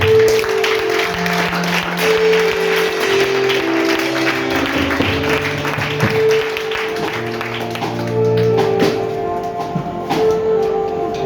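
A church congregation applauding and cheering, sustained loud clapping with layered tones and voices that keeps going steadily throughout.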